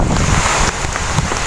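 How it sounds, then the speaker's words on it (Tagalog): Very strong typhoon wind roaring in Borongan City, Eastern Samar, ahead of the storm's landfall. It is a loud, continuous broadband rush with gusty swells and heavy buffeting against the microphone, close and unbroken, with no talk. "So ayan na, napakalakas na ng hangin."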